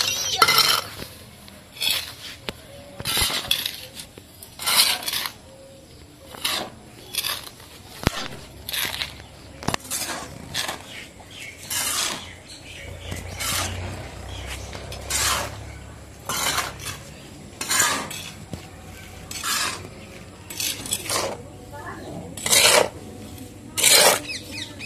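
Potting soil for an orange sapling being mixed by hand in a container on a rooftop, heard as repeated rasping scrapes and rubs in uneven bursts, fairly close and moderately quiet.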